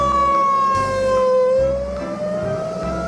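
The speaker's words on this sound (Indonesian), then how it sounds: "Ini adalah mobil pemadam kebakaran." A toy fire truck siren wails loudly and close, a steady electronic tone sliding slowly down and back up over a few seconds.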